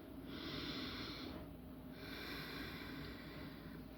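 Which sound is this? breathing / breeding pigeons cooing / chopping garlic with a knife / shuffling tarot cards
breathing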